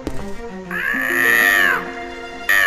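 A cat meows in the horror video game Gregory Horror Show, a long drawn-out wavering cry followed by the start of another, loud and close, with music-like tones and no talking.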